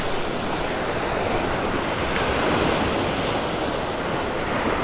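Rough surf rolls steadily onto a beach in North Naples, Florida, a continuous loud wash of breaking waves with some wind noise and no voices.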